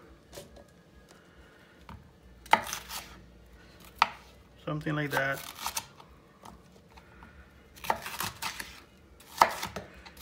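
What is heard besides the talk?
knife chopping vegetables into chunks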